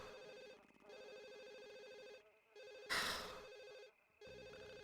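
Electronic telephone ringing in The Sims on GameCube, repeated trilling rings separated by short gaps, one brief brighter burst midway, quiet and alone.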